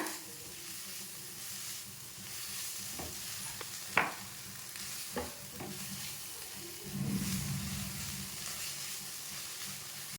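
Spices and ground pepper stirred in a sizzling pan while making pink sauce pasta, a steady frying hiss with a few sharp scraping clicks of the spoon, close and moderately loud, no talking.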